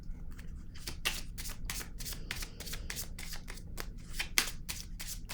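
Tarot cards are handled and laid down on a table: a steady run of crisp, papery riffling and slapping bursts, close and fairly loud, with no voices.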